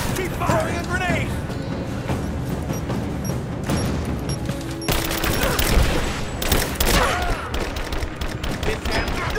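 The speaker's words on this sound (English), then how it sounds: "Keep firing a grenade!" Chaotic combat in the video game Rise of the Tomb Raider, with grenade fire among dense, continuous bursts of shots, booms and crashes. Voices call out over the loud barrage throughout.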